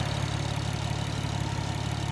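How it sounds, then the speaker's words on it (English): A 1994 Nissan Skyline R33 GTS25T Type M with 164,000 kilometers idles close by, a steady low mechanical hum with an even, fast pulsing tick running through it, unbroken and without talk. "Engine running condition is good."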